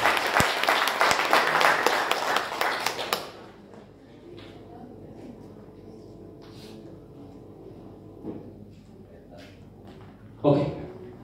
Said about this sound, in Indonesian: Berikan aplaus dulu ya.